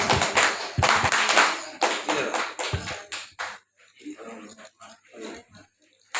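A group at a Banser training camp in Telawang, Central Kalimantan, performs the Banser clapping chant, sharp bursts of many hands clapping in rhythmic clusters mixed with voices chanting, the claps thinning and fading toward the end.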